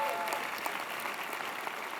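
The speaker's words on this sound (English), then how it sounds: "How about a cheer for the Carnegie Mellon people?" A keynote audience claps and cheers for the Carnegie Mellon attendees, producing a steady, fairly loud wash of applause from many hands with scattered whoops mixed in, sustained without a break.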